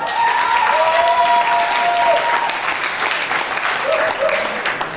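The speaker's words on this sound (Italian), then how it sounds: "Un grande applauso!" An audience at an Italian singing contest in Stuttgart bursts into sustained, steady applause, dense and loud throughout with a faint tonal sound drifting above the clapping.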